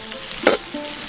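Onions, capsicum and cumin powder frying for chilli chicken, cooked outdoors in a village jungle setting; a close sizzle with one sharp burst of stirring at the midpoint, then a softer steady crackle, no talking.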